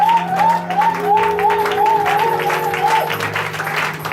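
Worshippers at a prayer service clap steadily in praise while a voice sings or chants over the top, making a dense, continuous round of applause that holds throughout.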